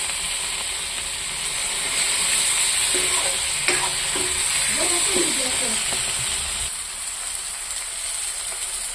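Tomato and onion fry together in a pan with turmeric and chili powder, a constant close sizzling hiss with a few stirring scrapes in the middle, no speech.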